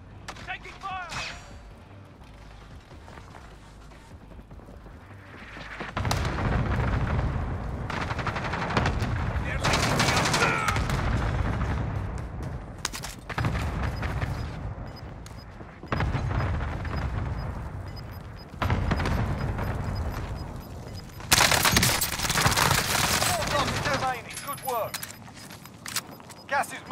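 Video game gunfire erupts in repeated rapid bursts, loud and close, alternating with quieter gaps, with in-game voices heard between volleys.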